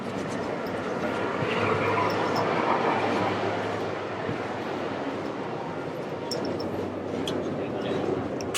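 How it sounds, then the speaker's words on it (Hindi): Steady rushing hum of a Chinese maglev airport train running at speed, heard from inside with a constant low rumble and airy whoosh, plus a voice talking over it. "ये मैगलेव ट्रेन है भाई,"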